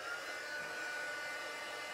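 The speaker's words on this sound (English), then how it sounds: "So I'm heating up my gun first," A heat gun used for card crafting whirs with a steady, even, breathy blowing roar as it warms up, close by and continuous, with no pauses.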